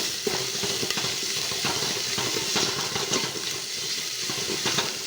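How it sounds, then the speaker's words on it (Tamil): Ginger and garlic sauté in a pan for mutton curry, a steady close sizzle broken by frequent scraping stir clicks throughout, with no talking. "இஞ்சி பூண்டு வந்து பச்சை வாசம் போகிற அளவுக்கு வதக்கணும்"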